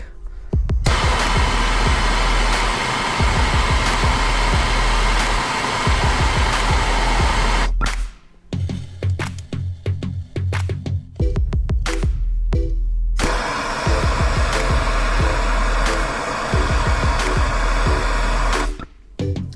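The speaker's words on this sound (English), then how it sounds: "That's right, just blowtorch in the Raptor" A blowtorch heating a blade inside a Ford Raptor makes a steady, loud roaring hiss that breaks into sputtering bursts midway before resuming its continuous roar, close and with no talking.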